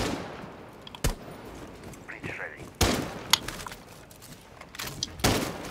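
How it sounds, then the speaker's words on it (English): Gunfire in Rainbow Six Siege: a few sharp, separate shots spaced a second or two apart, loud and close, over game ambience and occasional voices. "This is terrible shooting."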